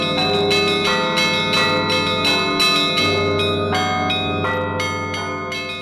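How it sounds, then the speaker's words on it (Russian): A 5-ton church bell rings at the Rybinsk bell tower, joined by smaller bells in a loud, rhythmic peal of repeated strikes whose rich overtones ring on and overlap without any voices. "Вот мы сейчас услышим звук 5-тонного колокола."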